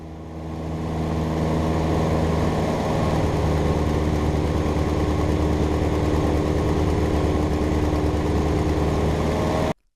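A light airplane engine in night flight drones steadily at one RPM where it shakes the airframe, a loud continuous hum with layered tones and no voices, cutting off abruptly near the end.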